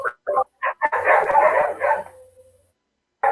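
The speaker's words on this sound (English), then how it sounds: "There's dogs." Dogs bark in a quick run of sharp, separate yaps, then one longer, rougher bark that trails off, fairly close and loud, followed by a short silence.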